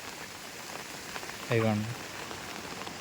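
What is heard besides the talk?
rain and canal water flowing through field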